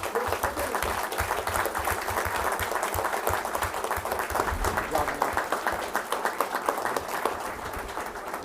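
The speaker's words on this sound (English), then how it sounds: "Please give me a round of applause" Sustained applause from an audience at a school board meeting honoring a Westfield High School student of the month, dense steady clapping filling the room throughout.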